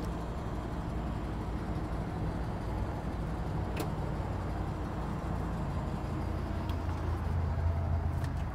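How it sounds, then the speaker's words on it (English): The slide-out of a 2022 Renegade Valencia 38RB motorhome extends with a continuous, even mechanical drone and low rumble, steady throughout with a couple of faint sharp clicks. "I'm gonna go ahead and extend this slide again while we're talking"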